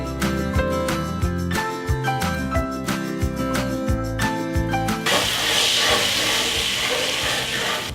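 Butter browning in a pan for bakery-style M&M cookies: an even, loud sizzling hiss that takes over after a stretch of rhythmic background music.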